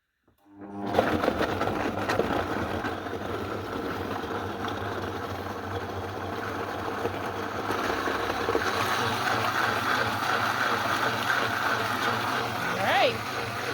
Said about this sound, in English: Vitamix is ready to go.